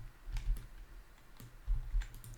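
Keys tapped on a computer keyboard during a SolidWorks modeling session, with a few quiet, close clicks and short bursts of typing, then a firmer press like the enter key, all soft and without speech.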